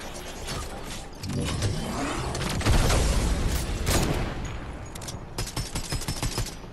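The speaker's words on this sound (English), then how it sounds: "Shoot the cannon." Cannon fire in the Fortnite video game, a busy run of loud booming blasts and rapid gunfire-like bursts with some mechanical noise, building through the middle and continuing in sharp clustered hits.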